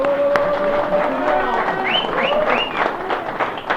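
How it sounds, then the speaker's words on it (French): A crowd at the Saint Cassien 2021 trophy event applauds the volunteers with loud, sustained clapping, mixed with voices and rising cheer-like whoops. "Déjà un tonnerre d'applaudissements pour eux"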